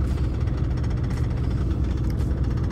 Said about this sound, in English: We just got on the bus.